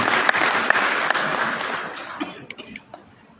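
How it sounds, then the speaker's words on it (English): Audience applause at a book launch greeting the author, a dense wash of clapping that gradually thins and fades over a few seconds, with a few scattered coughs and isolated claps near the end. "A big round of applause for him"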